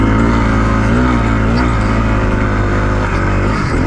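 A dirt bike engine revs hard and steadily on a dusty hill climb, a loud continuous drone with rising pitch sweeps, close to the microphone with no voices.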